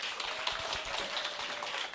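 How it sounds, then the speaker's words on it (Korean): An indoor audience at a seminar claps steadily to welcome a speaker, a dense, even patter of many hands that continues without a break. "큰 박수 부탁드립니다"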